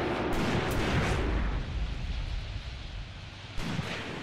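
Mortar and artillery fire in the Tank Warfare Tunisia 1943 battle game: a heavy, booming blast with rumbling low-end decay, then a second sharp impact near the end, all against steady battlefield noise and with no talking.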